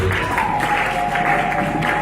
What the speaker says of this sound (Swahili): shangilie Bwana kwa makofi